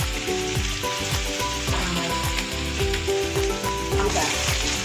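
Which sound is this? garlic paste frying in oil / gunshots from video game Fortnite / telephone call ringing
garlic paste frying in oil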